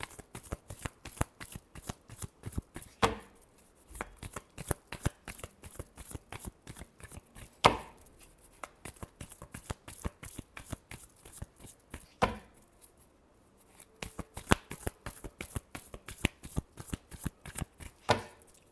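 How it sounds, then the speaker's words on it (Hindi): Tarot cards are shuffled by hand in fast, repeated riffling bursts, crisp papery clicks running nearly continuously with brief pauses, quiet and close. "last shuffle"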